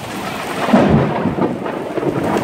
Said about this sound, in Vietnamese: trời thì sấm chớp nổi lên đùng đùng